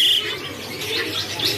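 Local crested zebra dove (perkutut) at a bird kiosk, giving soft, close coos with a few brief high chirps standing out from a busy background.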